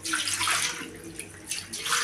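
Running tap water splashes over a fish as it is rinsed before cooking for a gravy, a continuous close gush of water with shifting splashes and no talking.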